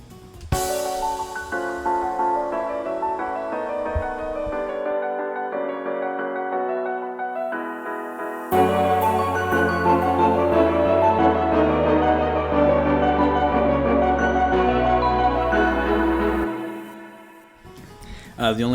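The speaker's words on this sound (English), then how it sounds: "And then I bring in the street bells, the staccato violin, the actual violin, and even the horn gets in on the lead a little bit here" Orchestral break section from a dark waltz track: chiming street bells and staccato violin lines, joined by a fuller bowed violin and horn lead with deep low bass swells, dense and loud until a brief drop near the end.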